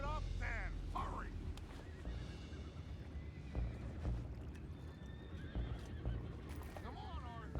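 Horse neighing loudly and close, with a couple of wavering whinnies near the start and another toward the end, over rumbling noise and hoof clip-clops.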